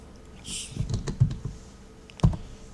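Close computer keyboard typing on an Ubuntu machine, a short burst of several key clicks followed by a pause and one firmer keystroke.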